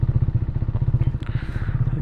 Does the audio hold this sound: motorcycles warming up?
yes